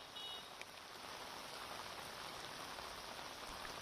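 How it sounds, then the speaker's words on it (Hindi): Heavy monsoon rain pours down over a flooding Indian city, a steady, even hiss of dense rainfall that holds without pause and sounds fairly distant and soft, with no voices. "भारी बारिश ने समूचे शहर को करीब करीब डुबोसा दिया।"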